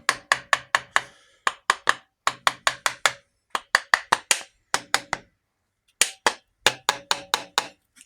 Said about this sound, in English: Just give it a little knock with a soft hammer